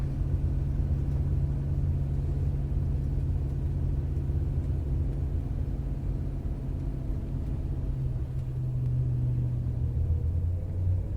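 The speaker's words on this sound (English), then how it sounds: "you get a nice relaxing car ride on the way home" Steady low road rumble fills a car cabin on a late-night drive home, a constant engine drone and tyre hum with a slight pitch shift near the end, no talking.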